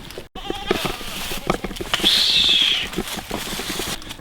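A goat bleats loudly and close in a single drawn-out call, set against outdoor rustling, footsteps and handling noises around a pen.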